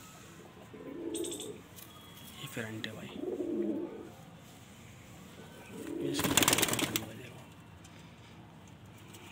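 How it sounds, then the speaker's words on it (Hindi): A black Madrasi pigeon coos in three low, throaty bursts spaced a few seconds apart, close by, while someone talks over it and brief rustles break in. "ये काला सैंदा कबूतर है भाई"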